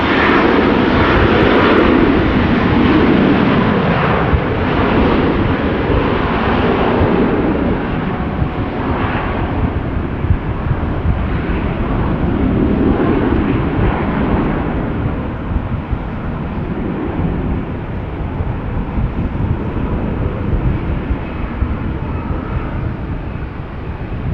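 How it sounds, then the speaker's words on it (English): A KLM Airbus A321 bound for Madrid takes off at Amsterdam Schiphol with a loud, sustained jet roar that slowly fades as it climbs away, with no talking. "the A321 privilege style flying from KLM to Madrid. Taking off over here"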